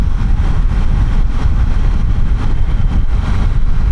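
A Triumph Tiger Sport 800 motorcycle engine runs at steady surface-street speed, a continuous low rumble mixed with wind and road noise, smooth and unbroken throughout.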